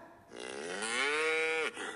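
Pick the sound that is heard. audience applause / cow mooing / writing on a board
cow mooing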